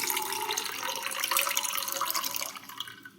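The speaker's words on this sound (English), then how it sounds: "We'll pour out the tap water first." Tap water poured out of a container into a sink, a steady broadband splash and trickle that runs evenly for a few seconds, then thins and tapers off at the end, no voices.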